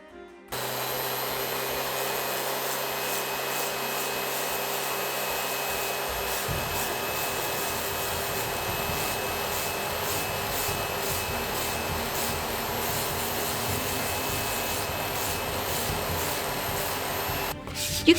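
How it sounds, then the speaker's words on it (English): A Dremel rotary tool rounding the edges of foam, a steady high-pitched whir that holds constant for about seventeen seconds with a lower hum dropping away early, then cutting off abruptly. "I will be making the edges rounder with my Dremel"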